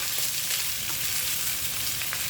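Trout stir frying in a pan gives a steady, close sizzle of hot oil that runs unbroken throughout, with faint scraping stirs over it and no voices.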